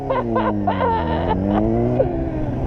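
A turbocharged car's engine revs close by, its steady tones climbing and falling, while a voice cuts in briefly over the running motor.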